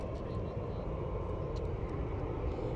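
An Etihad Airbus A380 jet airliner flies over Richmond, London, making a steady, distant broadband roar that stays even throughout, with faint talk beneath it.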